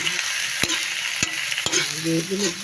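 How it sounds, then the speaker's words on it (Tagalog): Vegetables sautéing in a pan for pancit bihon, with a steady loud sizzle broken by three sharp spatula knocks against the pan, close up and with no talking. "Konti lang to kaya ginisa ko na yung gulay"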